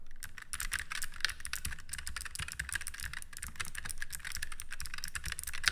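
An extremely clicky computer keyboard typed quickly and continuously, with dense bright clacks heard close to the microphone and no talking.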